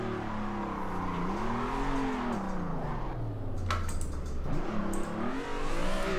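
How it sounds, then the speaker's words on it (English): A car held in second gear in Assetto Corsa, yanked into a handbrake spin, its engine droning and pitching up and down continuously as the revs rise and fall, with a brief tire-squeal burst midway. "keep it in second gear and just pull on the handbrake until it stops"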